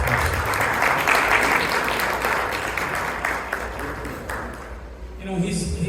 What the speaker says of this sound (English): Please give a big round of applause for Iftikhar.